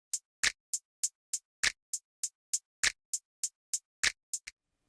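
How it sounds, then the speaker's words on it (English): A sparse programmed drum pattern for a remake of a song: crisp hi-hat ticks in a steady eighth-note pulse, with louder snap hits landing on the offbeats, dry and alone. "All there is a hat and then a snap."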